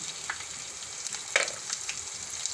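Asafoetida, garlic and chillies hit hot oil for a capsicum and yogurt curry, producing a soft continuous sizzle with light crackles and a few sharper pops.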